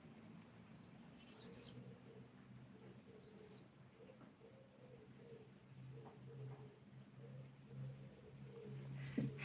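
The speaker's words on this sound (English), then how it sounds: "Apologies if you hear the birds. I had to open the window." Birds chirp faintly at a distance through an open window, a brief high call standing out early, while soft cooing murmurs continue in the background.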